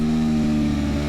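Aprilia Tuono motorcycle engine held at a steady, loud, close drone during a throttle roll-on, with a slight rise in pitch toward the end.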